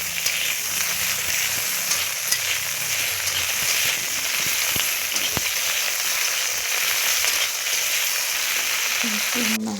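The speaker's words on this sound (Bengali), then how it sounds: "নুন দিয়ে একটু ভাজা ভাজার মতো একটু সামান্য নাড়বো" Pieces of chalta (elephant apple) fry with salt in a pan while being stirred, giving a steady, continuous close sizzle throughout with occasional scraping clicks and no talk.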